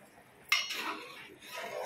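A single clank of a ladle against a cooking pot of simmering taro root stew, then soft scraping stirring sounds, close and quiet, no voices.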